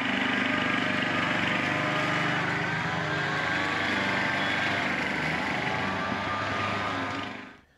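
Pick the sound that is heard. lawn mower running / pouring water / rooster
lawn mower running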